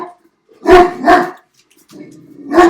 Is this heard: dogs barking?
yes